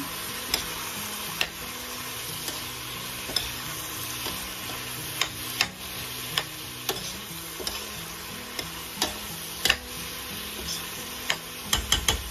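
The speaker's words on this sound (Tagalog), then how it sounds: "So, halo-haluin natin ganyan." Mushrooms stirred in a cooking pan, a soft steady frying hiss broken by repeated sharp clicks and scrapes of the utensil against the pan, close and fairly quiet, with no talking.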